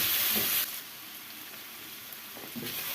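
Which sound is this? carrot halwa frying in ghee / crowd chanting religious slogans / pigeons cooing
carrot halwa frying in ghee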